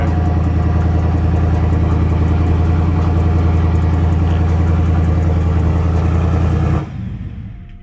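A 2024 Ford F-150 runs with its exhaust removed, a loud, steady, rumbling idle drone held close for several seconds before it abruptly drops away near the end.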